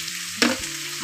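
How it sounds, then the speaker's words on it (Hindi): Salt stirred into cabbage and potato sabzi frying in a pan: a soft sizzle under one brief, sharp scrape of a spoon midway, close and without talk. "और इसको चला देते हैं जिससे ये मिक्स हो जाए नमक अच्छी तरीके से इसके अंदर"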